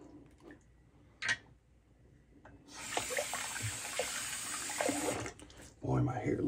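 A tap opens and water runs steadily into a sink for a couple of seconds, a close hissing splash that stops abruptly, with brief clinks and a voice around it.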